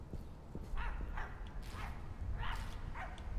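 Quiet, repeated barks from a dog in the video game My Friendly Neighborhood, several short yips spaced out over a low rumbling game background.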